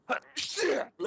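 A person sneezes loudly twice in quick succession, the sharp bursts separated by a short gap, with a brief gasp or follow-up at the end, close to the microphone.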